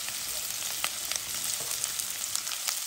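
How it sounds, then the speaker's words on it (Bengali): Onion and potato frying together in oil in a pan for a small-fish chorchori: a dense, steady sizzle with scattered crackles and light stirring taps throughout. "দিয়ে দিলাম তেল, পেঁয়াজ দিয়ে দিলাম, আলু দিয়ে দিলাম একসাথে ভেজে নেব, হালকা ভেজে নেব,"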